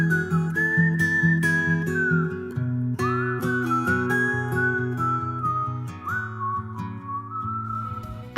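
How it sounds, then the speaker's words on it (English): Someone whistles a bright, sustained melody on the bridge of a country song, carried loud and clear over a full backing band with no talking. "You can hear him whistling on the bridge of that very track."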